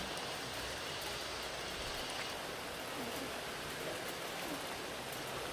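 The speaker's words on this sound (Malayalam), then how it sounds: "ഇപ്പോൾ ഭയങ്കര മഴയാണ്." Heavy rain pours steadily at Sabarimala, a dense, even hiss with no breaks, fairly faint in level and with no voices.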